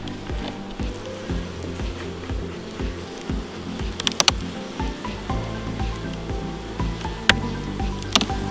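Honey bees in an open winter hive, a strong colony filling the brood box, give a continuous soft buzzing hum close by. A few sharp clicks and knocks from handling the hive break through it.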